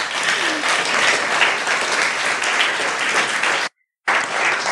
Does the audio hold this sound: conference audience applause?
yes